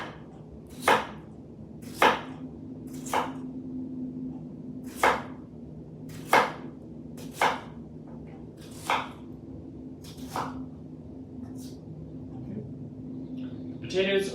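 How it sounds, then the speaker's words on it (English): Potatoes being chopped with a knife on a board, about ten sharp separate cuts spaced roughly a second apart, with a low steady hum underneath and quieter chops toward the end. "Potatoes are chopped."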